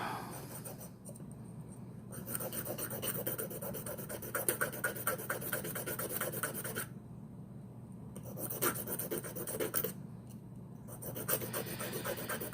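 A coarse file rasps against a small metal lock tool head for a disc detainer pick, repeated back-and-forth strokes in bursts with short pauses between, close and fairly quiet.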